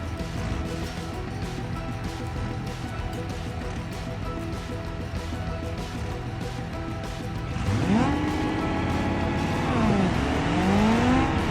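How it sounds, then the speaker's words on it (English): An Ibishu Wigeon in a racing video game launches hard, its engine droning steadily at high revs before loud rising and falling sweeps as nitrous kicks in and it shifts through the gears. "we'll leave the nitrous set to activate in second gear so we don't just flip over on launch"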